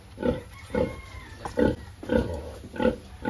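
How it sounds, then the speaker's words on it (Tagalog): Large hybrid pigs on a farm grunt in a steady series of loud, close, deep snorts, roughly five or six evenly spaced pulses with no talking. "Malaking baboy kasi ito mga farmers, hybrid yung baboy na to."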